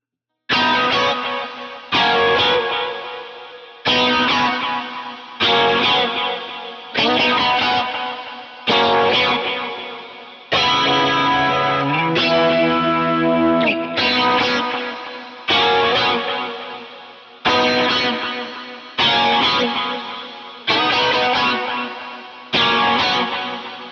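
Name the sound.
lead guitar outro with drive and effects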